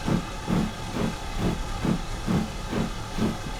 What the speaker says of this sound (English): Let's get the blower on.